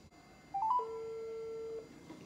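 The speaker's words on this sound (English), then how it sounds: "It's ringing." An outgoing phone call rings on the line: a couple of short dialing beeps, then one long, steady ringback tone lasting about a second, faint and alone.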